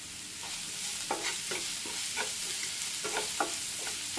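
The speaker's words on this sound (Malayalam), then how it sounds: "സവാള കട്ട് ചെയ്ത് വെച്ചത് ഇട്ട് കൊടുക്കാം. ഒന്ന് ഇളക്കി കൊടുക്കണം." Sliced onions and curry leaves fry in a pan for potato thoran while a spoon stirs them, making a steady sizzle broken by repeated scraping strokes, close and without speech.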